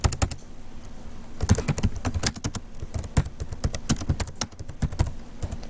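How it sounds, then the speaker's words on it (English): Computer keyboard typing comes through close and clear as irregular runs of crisp key clicks with brief pauses, steady throughout and without talking. "I should just type this."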